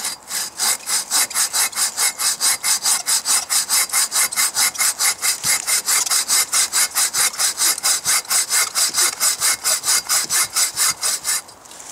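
A take-down buck saw cuts through wood in fast, even back-and-forth strokes, a loud rasping rhythm of about four strokes per second that continues steadily with no talking, then stops at the end.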